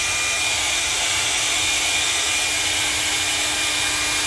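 A hair dryer blowing on a painted piece of wood to dry a coat of paint, a loud, close, continuous airy roar with a steady motor whine that does not change.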